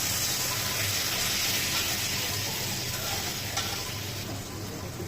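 A small-fish curry with onion, garlic and cumin paste simmers in a pan just after water goes in, a dense steady sizzle and bubbling hiss close up throughout.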